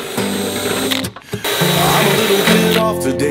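A power drill drilling out fender mounts on a Ford Bronco, whirring steadily at close range with a brief stop and restart partway through.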